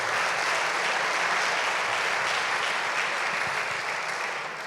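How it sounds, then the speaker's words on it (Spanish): Applause at a church service fills the space as dense, sustained clapping from a congregation, loud and steady for several seconds before easing slightly at the end. "Denle un aplauso al Señor"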